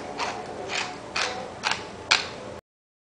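A pepper grinder cracking fresh pepper for a chicken lettuce wrap filling, five separate crunchy grinding twists at a steady pace, close up in a quiet kitchen.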